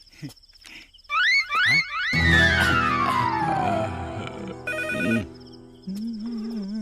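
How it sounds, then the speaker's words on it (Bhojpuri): A landline telephone rings in a short burst during a comedy scene, surrounded by swooping electronic effects and a low hum, then fades to a quieter tone. "रिंग जाता। स्पीकर पे लगावा।"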